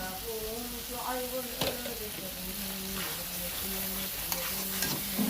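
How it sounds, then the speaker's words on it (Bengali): Salted masala with panch phoron powder being sautéed in a pan for a shrimp and stem-greens dish, a steady close sizzle with occasional stirring clicks, while a voice talks faintly underneath. "স্বাদ অনুযায়ী লবণ দিয়ে আমি মশলাটাকে কষিয়ে"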